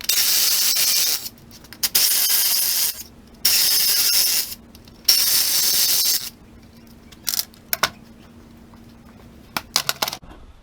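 A ratchet wrench works loose an exhaust manifold bolt on a 5.3 engine, with bursts of rapid, rasping clicks separated by pauses, then a few sharp isolated clicks, close up.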